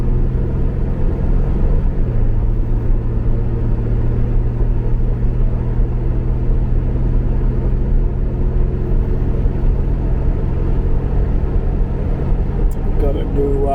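Inside a Reliant Scimitar car while driving, a loud steady engine drone and road rumble fill the cabin throughout, with no clear gear changes or talk.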